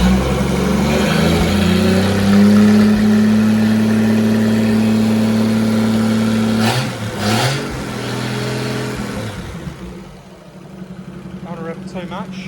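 An FJ Holden Grey motor running just after its first start following a rebuild, a steady loud idle with a slight miss, then a couple of short blips before it settles lower, with someone talking at the end.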